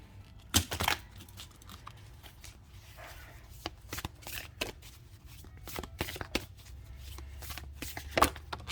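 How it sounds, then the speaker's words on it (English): Oracle cards with nature themes being shuffled and pulled from the deck, close up: irregular papery flicks and sharp snaps over a soft rustling background, with no talking. "I'm going to pull a few nature-y type cards."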